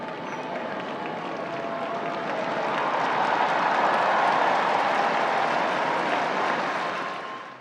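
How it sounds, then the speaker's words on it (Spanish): A large crowd gives Pope Francis a loud ovation at his first public appearance, a dense, steady roar of cheering and clapping that swells in the middle and holds to the end, with no clear talk over it. "En su primera aparición pública, Francisco recibió una gran ovación."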